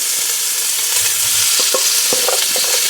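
Bacon frying in a little oil in a pot on the stove, a steady loud sizzle with scattered pops and brief stirring scrapes, no voices.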